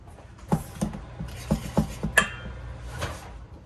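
A whisk clinks against a bowl while batter is mixed, giving a handful of irregular metallic taps and scrapes, close and fairly quiet.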